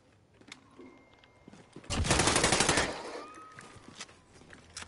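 A short, loud burst of rapid automatic gunfire in the video game Call of Duty rises from a quiet background of faint game sounds and fades back within about a second.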